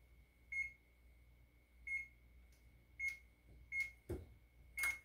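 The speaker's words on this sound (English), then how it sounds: "I got the oven preheating" A kitchen oven beeps while preheating: five evenly spaced single electronic tones, clear and fairly close in a quiet room, with a couple of brief clatters near the end.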